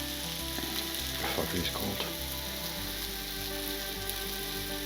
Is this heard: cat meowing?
no